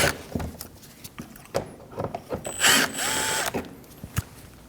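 Ratchet and driver removing T25 screws from the bumper of a 2012-2022 Volkswagen Passat, close clicking ratchet strokes and metallic clanks with a short squeal, no talking.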